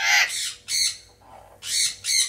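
Caged birds at a large bird and dog farm in West Bengal give loud, harsh squawks in four bursts separated by short pauses, close and sharp.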